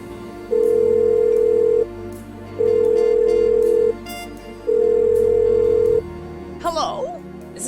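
A telephone is dialed in the video game Blackwell Unbound with three long, loud, steady tones separated by short pauses, followed by a brief voice.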